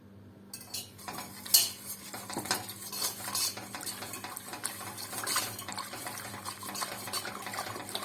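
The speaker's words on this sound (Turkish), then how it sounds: "Bir litre süt. Bir su bardağı unla beraber şu anda karıştırıyorum." A metal utensil scrapes and clinks steadily in a pot while a litre of milk is stirred into a glass of flour over low heat, close and fairly quiet, with no talk.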